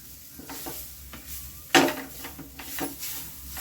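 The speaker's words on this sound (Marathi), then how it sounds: "चांगलं परतून घ्यायचं" Ground masala is sautéed with coriander, ginger and green chili for matar kachori filling, giving a steady sizzle under repeated spoon scrapes against the pan, with one sharper clatter near the middle.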